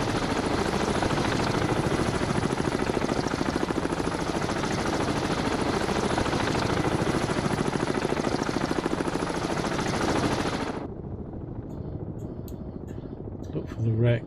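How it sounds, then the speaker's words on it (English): Helicopter from the submarine game Cold Waters, a loud, steady rotor-and-engine drone lasting about ten seconds before cutting off abruptly to near quiet, with someone talking over the noise. "We do have a helo."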